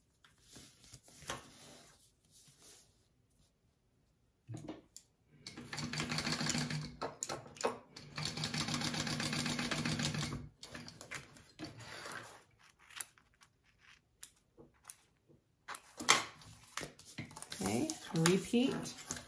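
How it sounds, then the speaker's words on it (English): A sewing machine stitches along the bottom of a ladies' wallet in rapid buzzing bursts, with pauses between runs, while someone talks over and between them. "I'm going to stitch along the bottom of that one."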